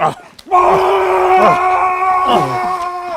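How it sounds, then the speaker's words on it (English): Batman, performed live on stage, lets out a loud, sustained scream of rage, a strained voiced cry that holds and wavers for a few seconds after a short quiet start. "Batman lets out a scream of rage as he pummels Stirk"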